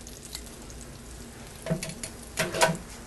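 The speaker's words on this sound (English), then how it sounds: "I'm going to stir that garlic in there just a little bit so that it starts cooking." Minced garlic sizzles in a hot pan as it is stirred for lemon chicken, a steady soft fry broken by a few louder scraping stirs near the end, close and without talk.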